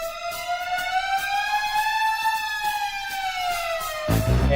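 A rising and falling wail of a siren from the Inspector Gadget theme music sweeps loud and continuous over a soft string background, ending as a heavier musical hit comes in.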